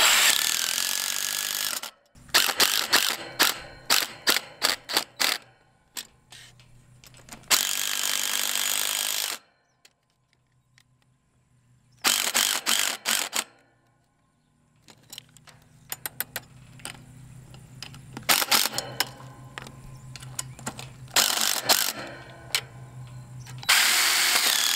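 A power driver sinks 5-inch timber screws into a wooden gate post in loud, repeated bursts of whirring and hammering, with quiet pauses between drives and a few softer clinks and knocks.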